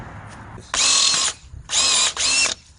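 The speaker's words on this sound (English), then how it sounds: "I'll drill the hole" A power drill whines in three loud bursts, boring a tap hole into a maple tree trunk, with short quiet pauses between them.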